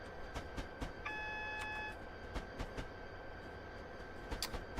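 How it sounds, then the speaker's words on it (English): A steady low locomotive rumble from a Class 59 freight train in a train simulator game runs throughout, with rhythmic clacks of wheels over rail joints and a brief electronic tone partway through. "We're driving a Class 59 freight service along the North London line on an extremely rainy day."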